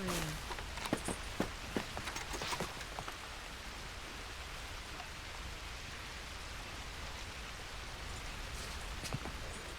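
Rain falls steadily in the Red Dead Redemption 2 world of WildRP, a soft, even hiss with scattered drop ticks and a few brief taps early on, fairly faint and continuous.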